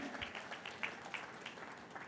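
Faint, scattered clapping from a meditation gathering audience, a thin patter of hands that stays quiet and distant for a couple of seconds.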